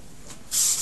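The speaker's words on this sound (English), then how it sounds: "Hairspray is your friend with this." A short burst of hairspray hisses close by after a faint rustle while a fan bun is styled, loud and breathy for about half a second.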